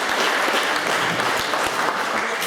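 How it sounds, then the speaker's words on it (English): A round of applause from an audience at a quiz, with steady, dense clapping at an even level throughout and no speech. "a round of applause for Damian for doing the quiz"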